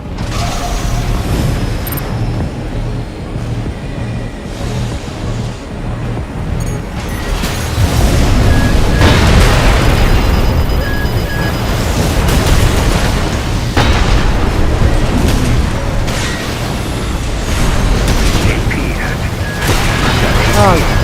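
Heavy booms and bursts of artillery fire from dual artillery rounds in the Armored Core 6 mech combat game, repeated loud impacts layered over dense mechanical battle noise, with a voice talking throughout.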